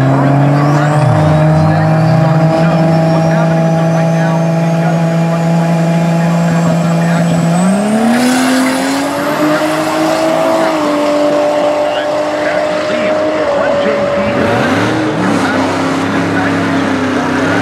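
An SUV fitted with a Toyota Supra engine runs hard at 30 PSI of boost, its loud, steady engine drone rising and falling with gear changes and throttle, close and continuous throughout.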